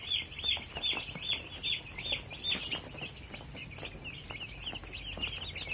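Broiler chickens in a farm shed keep up a dense, continuous chorus of high cheeping and clucking, steady and moderately close, with no voices.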